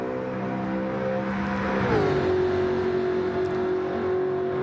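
A Jaguar GT3 race car at a British GT Championship round sends out a steady, loud engine note that drops sharply in pitch midway, like a downshift or pass, then holds a sustained drone.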